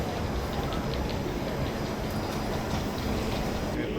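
MRT train arriving at a station platform, a steady loud rumble of rolling carriages with a faint high whine holding throughout at even volume.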